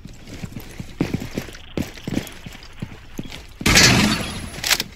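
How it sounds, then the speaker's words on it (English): Gunfire in Rainbow Six Siege, a rapid run of sharp, spaced shots cracking at irregular intervals, then a louder dense burst of fire and impact noise near the end. "Okay, I'm being shot at."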